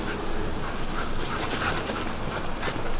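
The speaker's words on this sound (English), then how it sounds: "the dogs are fighting." Dogs in a household scuffle, with dense growling, whimpering and panting running continuously and fairly loud throughout, with no clear speech over it.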